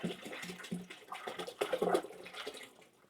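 The last gallon of water is poured into a container for a rodent rack setup, giving an uneven, gurgling splash that swells and fades, fairly faint and close.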